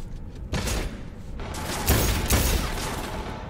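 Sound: gunfire in the video game Cyberpunk 2077

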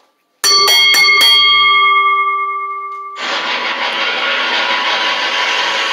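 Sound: wrestling ring bell ringing at end of match

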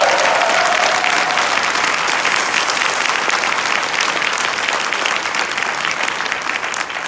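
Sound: audience applause at seminar

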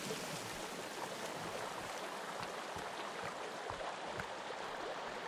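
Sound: waterfall rushing in Sons of the Forest video game

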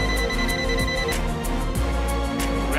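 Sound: multimeter voltage detection buzzer

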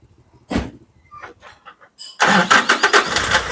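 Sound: ice cream truck engine arriving and parking

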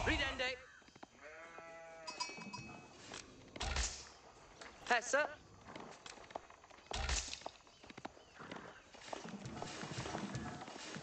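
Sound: sheep bleating in video game Age of Empires

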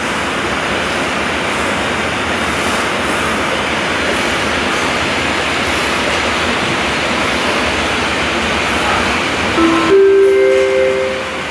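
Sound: train passing through station without stopping

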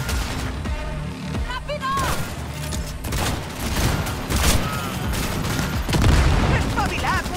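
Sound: gunfire in a video game shootout

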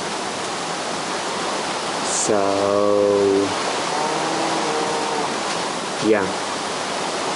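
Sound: flowing water in Minecraft video game

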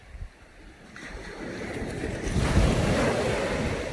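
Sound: sea waves on a beach in Mallorca

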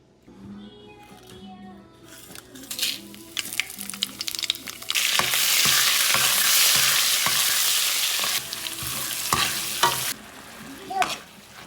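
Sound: spice tempering sizzling in pan

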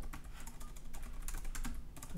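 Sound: typing on a computer keyboard

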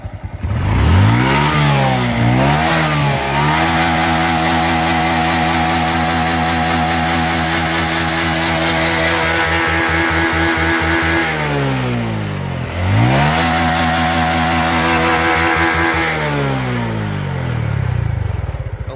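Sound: motorcycle engine revving after engine repair

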